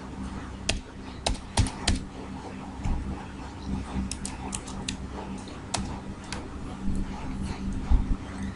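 Clicky typing on a computer keyboard, scattered close keystrokes in uneven bursts over a low steady background hum, with faint other sounds in the room.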